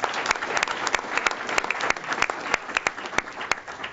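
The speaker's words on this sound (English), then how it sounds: "let's give her a round of applause." Audience at a school board meeting applauding, a clear burst of clapping with sharp individual claps standing out over the steady patter, moderately loud and without talking.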